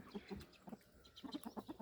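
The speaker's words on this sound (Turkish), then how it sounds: "Şu an tavuğumuzun birisi kurukta." Chickens cluck in a quick, uneven series of short calls, close by and fairly quiet, with no talking.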